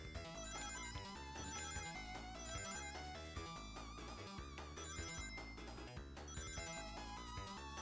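A phone rings with a bright, repetitive melodic tone that plays continuously and loudly throughout, with no talking.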